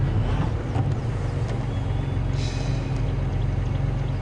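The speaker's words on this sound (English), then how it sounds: "I'm sure you got to hear the air being expelled out of the tyre" Air rushes steadily out of a flat tyre on a safari vehicle, a continuous broad hiss over a low rumble that stays loud and even throughout, with no voices.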